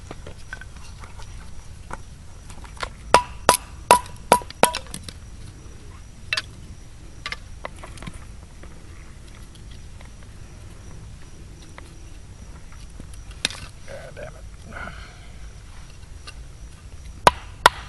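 Sharp, sparse chopping strikes ring out outdoors, a quick cluster of blows early followed by scattered single hits against a quiet background.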